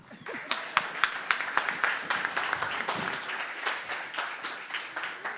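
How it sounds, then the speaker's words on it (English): Audience at a Bitcoin conference stage in Cape Town applauds a speaker, a steady run of claps rising after a soft start and holding fairly loud for several seconds, with faint talk underneath. "A round of applause for him,"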